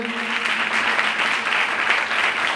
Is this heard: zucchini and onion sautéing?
no